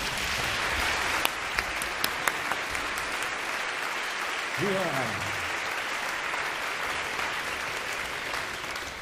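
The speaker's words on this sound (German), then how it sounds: "Ein Applaus natürlich für mich." Audience applause at a comedic music show, steady broadband clapping for the full nine seconds with a few sharp louder claps early on and a brief voice speaking midway.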